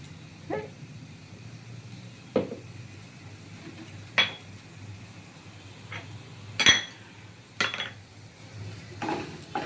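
Pumpkin leaf bharta is stirred in a pan with a utensil, giving about six sparse, quiet clinks and knocks against the metal at irregular intervals over a low background hum, with no talking.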